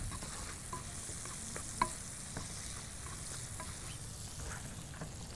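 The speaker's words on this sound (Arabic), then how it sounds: "ممكن نشوح البصل تشويحه خفيفه، ولو نقدر بالمعلقه ندوس عليه كده هيتفرط من بعضه" Onion gently sautéing in a pan for turmeric garlic rice, a soft steady sizzle with light spoon scrapes and taps as it is stirred and pressed, quiet and close with no voices.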